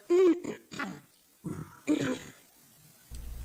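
Several rough throaty coughs and hacking bursts, close by, separated by short pauses, with a low rumble starting at the end.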